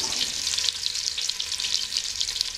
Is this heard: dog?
no